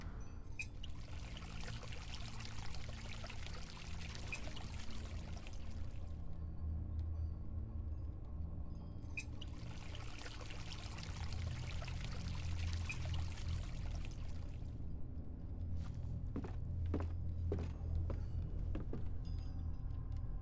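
In the Song of Horror video game, water drains from a large tank after a valve lever is pulled, heard as two long steady pouring gushes that stop abruptly, then scattered dripping trickles over a low ambient hum.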